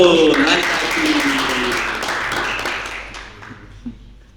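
Audience applause at an Indonesian podcast event, a dense wash of clapping rising quickly and fading over a few seconds, with a voice heard at the start.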